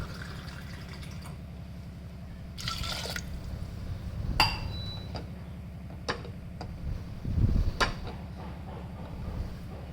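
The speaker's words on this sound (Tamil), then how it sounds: "தண்ணி 2 டம்ளர் ஊற்றிக்கோங்க." Two tumblers of water are poured over lentils with garlic, onion, tomato and turmeric for sambar. Short splashing pours come in a few bursts over a low steady hum, with no talking.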